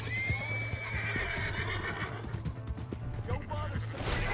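A horse in the video game Red Dead Redemption 2 gives a loud whinny at the start, with hoof clip-clops and mechanical clicking underneath, and the game sounds carry on steadily afterward.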